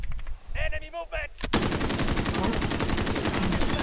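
Heavy automatic gunfire in a multiplayer video game, one sharp shot followed by a long, dense, continuous stream of rapid rounds that fills the rest of the clip, after a brief stretch of faint voice-like chatter.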